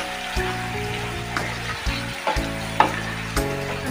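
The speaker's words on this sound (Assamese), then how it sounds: "এনেকুৱাকৈ 2-3বাৰ লাৰি দিয়াৰ পিছত চিকেনখিনি সিজি গৈছে" Chicken frying in a pan sizzles steadily while a spoon stirs it, with repeated scraping strokes and light clinks against the pan, close and clear.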